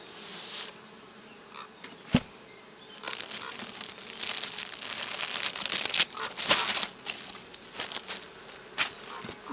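Honeybees hum and buzz steadily from a hive being opened during a colony transfer from Alpine frames, with crinkling and knocking of frames and cover throughout and a sharp knock early on; no talking.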